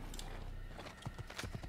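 Horse hooves clatter in Assassin's Creed, a short run of quick, close hoofbeats over a steady game background with no speech.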